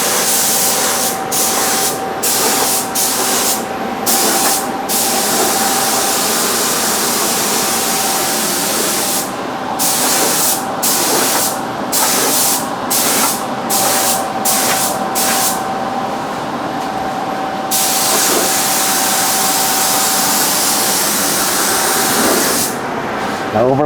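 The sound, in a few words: spraying sealer on driveway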